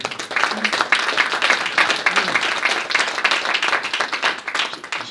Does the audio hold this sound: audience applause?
yes